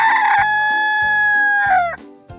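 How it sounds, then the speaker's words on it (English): A rooster gives a long, loud crow that holds steady before dropping off, with short clucks pulsing beneath it, close and clear. "The chicken says cluck cluck."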